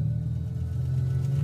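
Fiat Nuova 500 (Cinquecento) engine running just after starting, a close, steady low rumbling purr from the small car with no speech.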